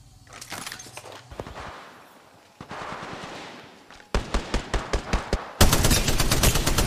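Gunfire in the video game Apex Legends, with sustained automatic bursts and a rapid run of distinct loud shots building to a dense volley at the end, heard up close with no talking.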